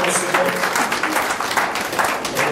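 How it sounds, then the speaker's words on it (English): A church congregation breaks into steady, dense clapping that fills the room, loud and continuous throughout, with no talking over it. "Clap offering for the Almighty God."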